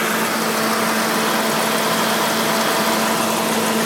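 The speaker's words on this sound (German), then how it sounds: "man hört also momentan läuft er eigentlich ganz gut im Leerlauf" An Audi 100 Typ44 with a 2.3-litre engine idles fairly evenly, giving a steady, continuous hum with a low tonal drone throughout, heard alone.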